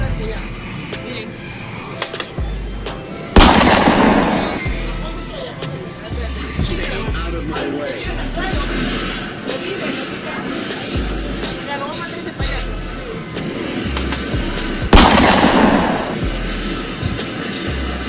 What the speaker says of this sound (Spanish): Mira, yo la voy a recargar y le voy a disparar hacia allá.